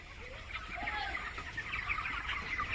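Soft, low clucking and murmuring from a group of young chickens huddled together against the cold, over a steady background hum, fairly close but quiet.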